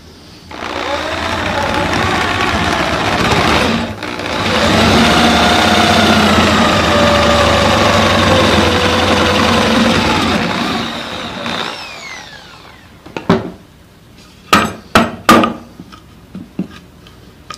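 Drill boring a hole through a wooden drawer front to make a half-moon pull in a woodworking shop, a loud sustained motor whine with grinding for about eleven seconds, then several sharp knocks and clatters as the piece is handled.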